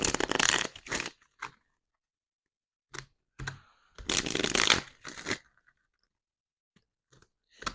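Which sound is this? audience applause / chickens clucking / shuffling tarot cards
shuffling tarot cards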